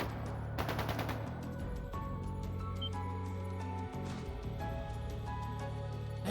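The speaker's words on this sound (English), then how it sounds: "That sounded like gunfire." Bursts of rapid gunfire in the video game Legend of Heroes: Trails of Cold Steel II crack over a steady electronic hum and tonal music, with scattered single shots and clinks throughout.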